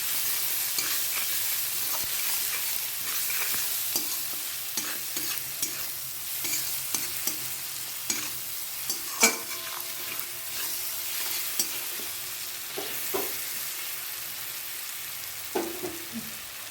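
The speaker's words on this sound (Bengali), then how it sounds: "আর দেবো হাফ চামচের মতন এতে জিরের গুঁড়ো দিয়ে ভালো করে এটাকে আমি কষিয়ে নেব।" Katla fish head sautéing in a pan with salt and ground cumin, a constant sizzle broken by frequent close scraping stir strokes and a few sharper clinks.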